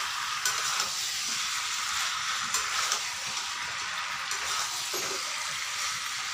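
Chicken feet fry in a pan with a steady moderate sizzle, broken by a few scraping stirs against the pan bottom; no one speaks.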